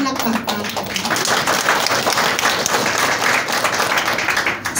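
Church congregation claps, a dense, steady patter of many hands filling the space with talk mixed in underneath.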